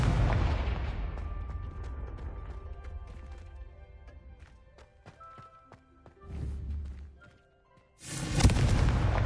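Spell effects in the video game Hogwarts Legacy: booming blasts and crackling impacts followed by ringing magical chimes, then a rumbling surge and a final loud whooshing burst, heard close with no talk.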